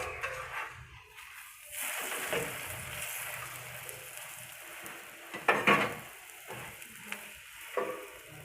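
A mooli paratha fries in ghee on a griddle with a steady, close sizzle that rises and falls as it is flipped and pressed, with a few louder bursts of spitting toward the end.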